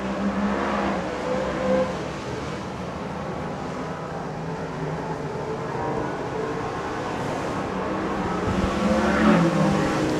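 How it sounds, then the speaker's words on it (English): Superstock race cars at practice in New Zealand in 2023 roar around the track, a steady loud engine drone that swells and fades as cars pass, with a louder surge near the end. "it is 94B, Brett Kelly racing out there."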